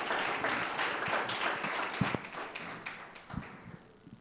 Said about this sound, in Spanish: les demos un fuerte aplauso como bienvenida